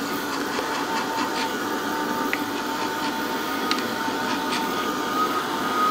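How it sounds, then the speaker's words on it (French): Steady broadband whir of a small hair dryer drying a watercolor painting, blowing continuously at close range, with a faint high whine running through it. "Donc un petit sèche-cheveux, comme ça."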